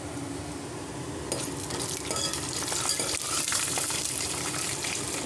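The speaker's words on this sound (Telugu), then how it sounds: "కాజు కూడా వేసేసుకుందామండి, ఫ్రై చేసుకుందాము." Cashews frying in a pan while cooking upma, a steady sizzle that brightens partway through, with stirring scrapes and light clinks of utensil against the pan.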